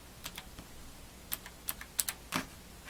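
Keys pressed on the keypad of a 1978 Intel 8085 microprocessor trainer, a handful of sharp, separate clicks spaced irregularly, fairly close and clear with no talking.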